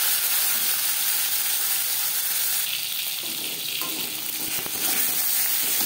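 Marinated katla fish belly pieces fry in hot refined oil in a pan. The sizzle is loud, close and continuous, with a brief burst of bubbling and spattering near the end, and no one speaks.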